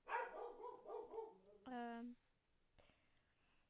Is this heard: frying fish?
no